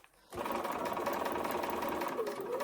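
A sewing machine stitches along the final line of a foundation paper piecing block, starting after a brief quiet moment and then running steadily as a fast, close mechanical whir.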